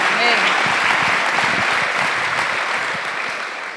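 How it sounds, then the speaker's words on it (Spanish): A church congregation gives an offering of applause, steady clapping from many hands that fills the space, with faint voices mixed underneath as it slowly tapers off. "Démosle una ofrenda de palmas al Señor porque Él está aquí."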